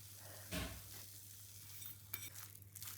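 Moong dal is stir-fried in a pan until dry, with a faint sizzle under a low steady hum and a few soft scrapes and knocks of a spoon, quiet and close, with no talk.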